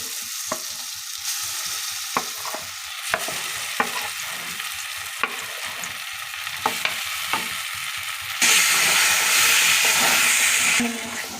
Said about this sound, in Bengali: তেল গরম হয়ে গেছে এবার ছোলার ডাল বেটে রাখা আর কলার ফুল